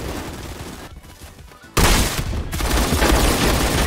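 Sustained LMG machine gun fire in the video game Phantom Forces, a dense rapid rattle that drops off briefly and then resumes louder and continuous, close and dominant.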